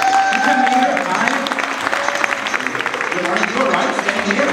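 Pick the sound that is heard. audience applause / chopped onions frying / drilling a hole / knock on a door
audience applause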